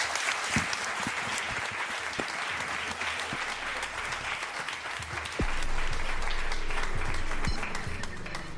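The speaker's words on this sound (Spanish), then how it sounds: "un aplauso os pido para ellos" Studio audience applauding on a television programme, steady dense clapping throughout with a slight lift in loudness toward the end, a few louder individual claps standing out.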